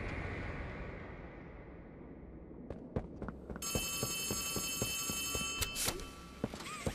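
A telephone rings in the Poppy Playtime Chapter 3 video game, a shrill electronic trill that starts midway out of quiet, dark ambience with scattered dull thunks and clicks around it.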